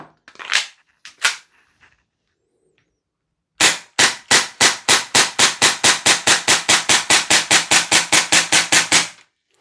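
Tokyo Marui airsoft pistol firing: a couple of isolated snaps, a pause, then a rapid, evenly spaced string of about twenty-five sharp, loud cracks with the slide cycling, close up and with no talking.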